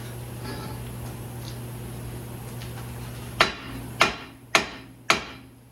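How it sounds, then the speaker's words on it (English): Four sharp hammer strikes ring out on a ball joint during wheel bearing replacement on a 2005-2012 Ford Fusion, at a steady pace, following a stretch of low mechanical hum. "Grab our hammer."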